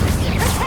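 A short, loud whooshing burst of the Incendio fire spell cast in the video game Hogwarts Legacy, a broad rushing swish lasting under a second.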